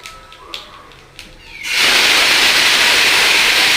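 Bay leaves and black cumin hitting hot oil burst into a loud, sudden sizzle that holds steady and close after a few quiet clicks and knocks at the start, with no talking.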